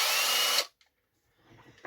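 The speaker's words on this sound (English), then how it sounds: "Bring out the large drill" A large drill bores into a circuit board while a quick dual 12 volt Eurorack power supply is built: a loud, close, harsh burst of drilling lasts about half a second and stops abruptly, then faint handling noises follow.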